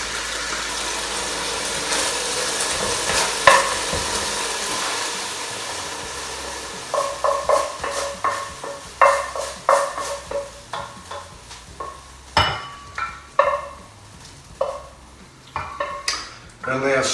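Onions simmering down in red wine toward a fry for spaghetti bolognese, a soft sizzle under repeated stirring scrapes and pan clatter, closer and busier in the second half.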